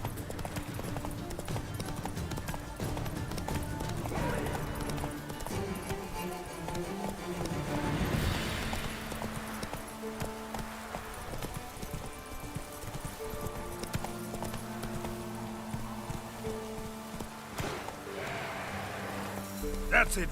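Horse hooves clip-clop at a steady trot in The Witcher 3: Wild Hunt, under game music and ambient rain-like noise, continuing throughout at moderate level.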